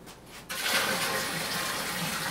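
Water pours steadily into an 8-gallon electric brewing kettle, a loud continuous rushing that starts abruptly after a brief quiet moment and keeps going without pause.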